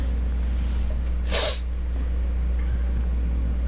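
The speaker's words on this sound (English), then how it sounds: "Oh no, I have to sneeze." A single sharp sneeze bursts out from a person sitting near the microphone during a relaxed drawing livestream, brief and loud over a steady low background hum.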